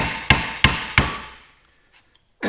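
Three evenly spaced, ringing hammer taps on an aluminum valve cover, close and sharp with short decays, then a brief quiet and a faint knock before another sound at the end.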